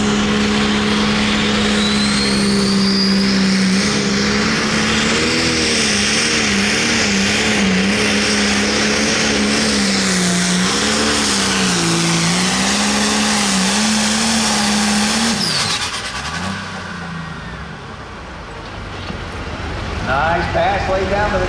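John Deere 5020 tractor at a county fair truck and tractor pull, its engine roaring loud and continuous with a rising, wavering pitch through the run, then dropping off near the end as the pass finishes.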